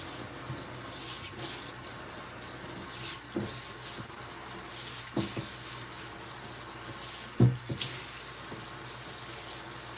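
A pitbull is rinsed with running water during grooming, a soft continuous hiss of spray with a few faint splashes and bumps.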